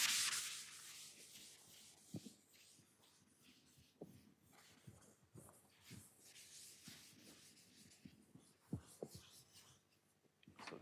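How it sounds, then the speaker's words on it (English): A lecture board being erased during a math lecture: soft, faint rubbing strokes in irregular bursts, close by, with no talk over them. "I can now erase this"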